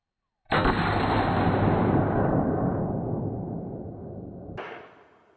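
A 5.56 rifle fitted with a linear compensator fired at cheap body armour: one sudden, very loud shot followed by a long rolling boom that fades over several seconds before cutting off, with no voices.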